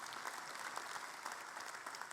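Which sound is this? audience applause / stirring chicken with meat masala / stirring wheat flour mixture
audience applause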